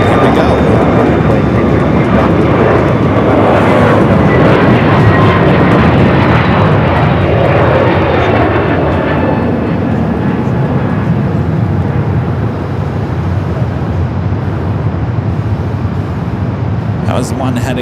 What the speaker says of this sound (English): That was the one heading to Minneapolis, the A321neo.